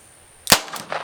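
A Smith & Wesson 432 revolver fires one sharp, close shot of a .32 S&W Long 100-grain wadcutter at a range, with a short echoing tail after the crack.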